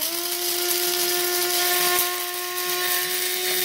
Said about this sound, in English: it takes a while to grind up beans to the right consistency we like